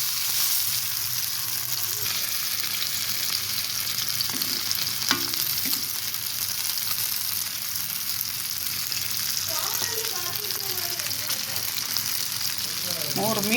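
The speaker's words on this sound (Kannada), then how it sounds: "ಇವಾಗ ನಾನು ಫ್ರೈ ಮಾಡಿ ತವಾದಲ್ಲಿ ನೋಡಿ, ಇದು ಕಬ್ಬಣ ತವ, ಎಣ್ಣೆ ಹಾಕಿಟ್ಟಿದ್ದೀನಿ, ಕಾದಿದೆ ಎಣ್ಣೆ" Bangda fish frying in hot oil on an iron tawa, a steady, close broadband sizzle that runs throughout with faint clinks, under soft occasional voice sounds.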